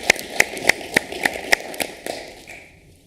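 A small board-meeting audience gives a short round of applause, about eight sparse, distinct claps at a steady pace that thin out and fade near the end.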